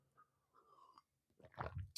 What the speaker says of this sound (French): Petite gorgée d'eau, pardon.